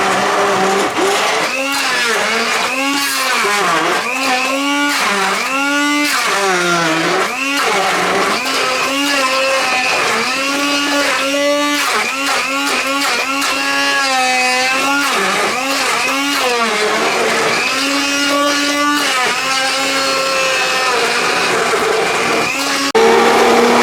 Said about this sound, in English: I'm going to have to use this hand blender